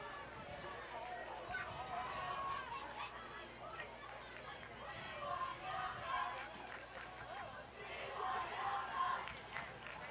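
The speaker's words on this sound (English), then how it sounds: "You can hear the crowd." A steady crowd murmur and chatter fills the stands at a high school varsity football game, West Monona at Treynor, rising and falling slightly without distinct cheering bursts.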